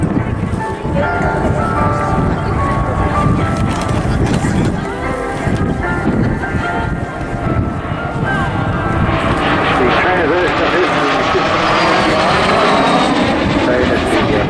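A MiG-15 two-seat trainer jet, a small fighter of the Norwegian Air Force historical squadron, roars loudly and continuously at the Southport Airshow, its engine tone shifting as it passes, with wind buffeting the microphone and voices talking over it.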